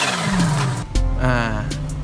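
A supercharged 2017 Kawasaki Ninja H2 sportbike revving in short bursts, its engine tone rising and falling with a sharp, whistling edge, heard close and fairly loud with a voice briefly under it.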